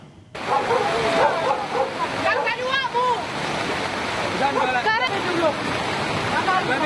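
Floodwater in Bogor, Indonesia, rushes in a strong current that sweeps a car away. It makes a loud, continuous roar, with voices calling out above it.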